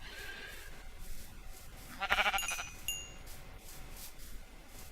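A Minecraft sheep gives a short wavering bleat, faint under a soft ambient wash of game background noise, followed a moment later by a quieter second sound.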